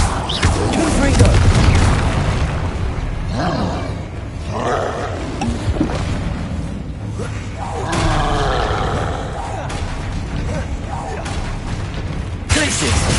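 Fire-spell explosions boom and roar repeatedly in a Hogwarts Legacy duel, loud and dense, with game sounds crowding the mix and a voice calling out spells between blasts.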